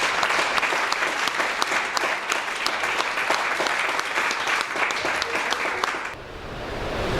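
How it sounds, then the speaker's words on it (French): A crowd at a peace and social cohesion gathering in Côte d'Ivoire claps in sustained, loud applause acclaiming Jesus for about six seconds, then the clapping stops and the room falls quieter. "Acclamons Jésus."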